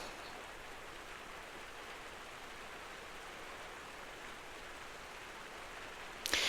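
Continuous rain comes through an open door, a soft, uniform wash of drops that stays level, with a brief louder bump at the very end.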